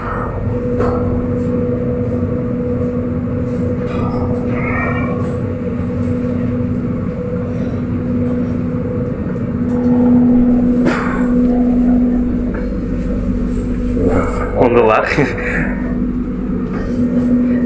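Steady rumble and drone inside a moving carriage of the Sawunggalih train in Indonesia, with a constant hum, occasional rattles, and a brief spoken phrase.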